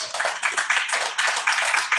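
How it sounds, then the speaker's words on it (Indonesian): A church congregation claps for God during a worship service: dense, continuous applause from many hands, steady and fairly loud, with no clear talk over it. "Berikan tepuk tangan untuk Tuhan."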